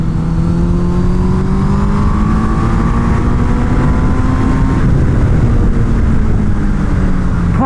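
A Suzuki Hayabusa engine howls continuously while ridden on a race track in first gear, loud and close with pitch climbing and shifting under wind roar, no talk heard.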